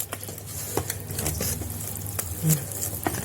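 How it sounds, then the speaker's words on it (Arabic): Cocoa cake batter is stirred by hand, with no mixer or whisk, in a home kitchen. The strokes are close and wet-sounding, repeating irregularly for about three seconds, and one louder scrape comes near the end. "قلبي بقى فيها كده تلاقيها بقت خفيفه"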